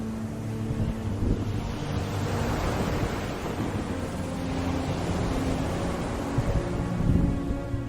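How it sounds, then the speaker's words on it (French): Stormy sea with strong wind roaring and large foaming waves rolling and crashing, a steady loud rumble with surges near the end, no voices. "une formidable tempête éclata en surface, faisant rouler des vagues écumantes hautes comme des montagnes"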